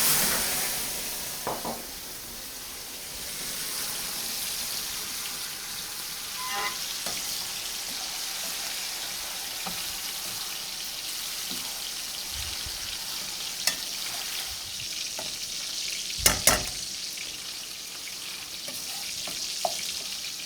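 Onions fry with bourbon in a pan, a continuous close sizzle with occasional stirring scrapes and a couple of sharp clinks, no talking.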